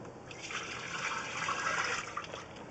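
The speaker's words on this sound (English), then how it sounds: "We're going to go ahead and run some water down the system, kind of clean out our camera head just a little bit here." Water rushing steadily down a cast iron sewer pipe during a camera inspection, a continuous hissing wash that stays loud and even throughout with no voices.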